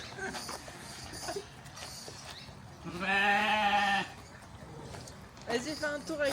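Sheep bleat loudly at close range in a strong, drawn-out call lasting about a second, with shorter bleats near the end and people chattering throughout at a farm sheep pen in Australia.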